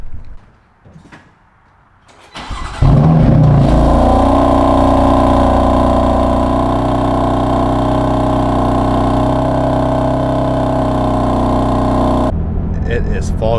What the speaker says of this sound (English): let's do a cold start on M3